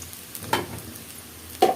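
Chicken cooking with onion in a pan gives a soft, low sizzle with two brief scraping stirs, close and quiet, no voices.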